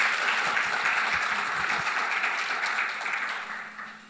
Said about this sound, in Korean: 많은 박수 좀 쳐주시죠